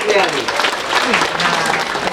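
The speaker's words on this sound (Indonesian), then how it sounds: "Tepuk tangan sekali lagi untuk beliau." Audience at a school talk show for Youth Pledge Day claps steadily through the full stretch, with a dense, continuous patter of hands at fairly close range and voices mixed in.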